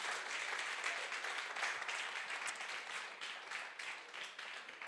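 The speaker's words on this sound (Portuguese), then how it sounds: "aplauso mais para a senhora Shermalyn." Sustained audience applause for a woman at a singles seminar, a dense steady wash of many hands clapping at moderate distance, holding throughout without a clear break and fading only slightly toward the end.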